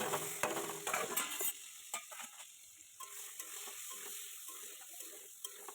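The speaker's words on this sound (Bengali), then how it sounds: "এই অল্প একটুখানি পেঁয়াজ ভেজে কেটে রেখেছি, এটাকে আমি ভেজে নেব।" Chopped onions fry in a pan, with a loud sizzle and stirring scrapes at first that settle into a softer, steady crackle with occasional clinks.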